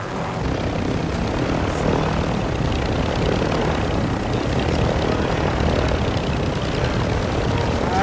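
A helicopter in a multiplayer video game flies with a dense, continuous rotor and engine roar that holds at a constant loudness throughout, with no speech.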